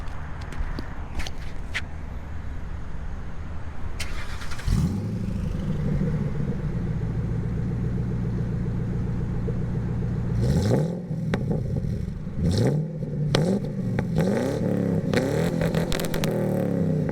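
A 2003 Mercury Grand Marquis starts up and idles with a deep exhaust rumble, then is revved several times in quick bursts, close and loud.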